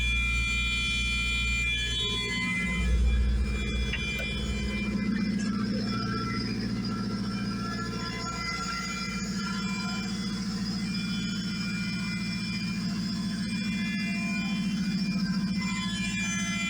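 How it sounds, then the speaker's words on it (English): Steady electric whine from a fuel pump feeding a 5-gallon Summit Racing fuel cell in a turbocharged K20 Honda Civic EG hatchback, droning continuously and fairly loud over a low idle-like hum, with no talking. "You'll hear my loud ass fuel pump"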